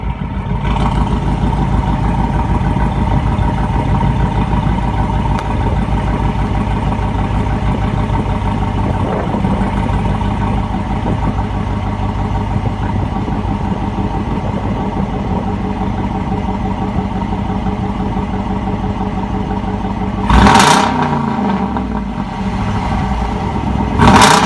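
A Dodge Durango with a $150 aftermarket exhaust runs close by with a steady, loud engine drone. Near the end it gives a short burst of revs with a rough, rising note, and no one speaks.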